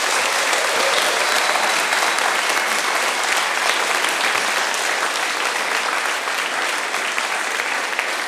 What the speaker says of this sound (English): A massive round of applause for all of the panelists